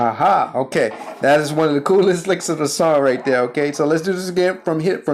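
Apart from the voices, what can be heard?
No everyday noises stand out.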